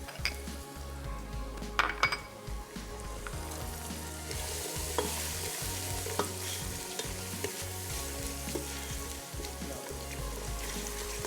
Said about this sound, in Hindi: ये मसाला हमारा भुन गया है।